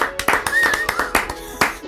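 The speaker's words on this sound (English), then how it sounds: "Just clap as though you heard something" A few people clap on a synth-music podcast, producing sparse, close, uneven handclaps with a little background chatter and a brief tone in between.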